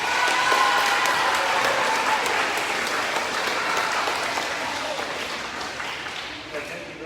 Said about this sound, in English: we're going to give him a round of applause anyway